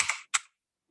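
Two quick bursts of keystrokes on a computer keyboard while entering a command in Excel, close and crisp, then silence.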